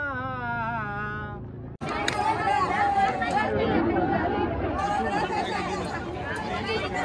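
Crowd chatter at a busy temple in Jejuri or Pandharpur: a short burst of devotional singing gives way to a loud, close wall of overlapping voices and babble that continues steadily.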